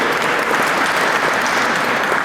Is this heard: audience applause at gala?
yes